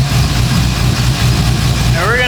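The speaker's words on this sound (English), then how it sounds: "But I got the engine running, obviously, to build some heat in it." A 2002 Chevrolet Silverado engine idles in a steady, loud, low rumble, with a voice starting briefly at the end.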